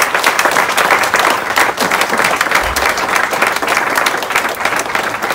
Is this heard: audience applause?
yes